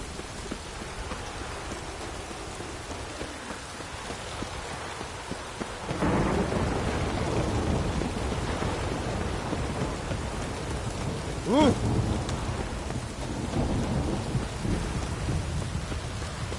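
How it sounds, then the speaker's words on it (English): Thunderstorm with rain in The Witcher 3: a steady wash of rainfall with rumbling thunder that swells midway, plus a brief tonal game sound, all without speech. "A storm, damn it."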